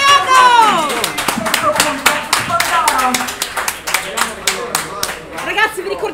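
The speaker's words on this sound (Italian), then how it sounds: "Un applauso" Audience applause at a live cosplay show broadcast from a pub, a dense burst of hand claps running steadily throughout with children's voices and chatter mixed in underneath.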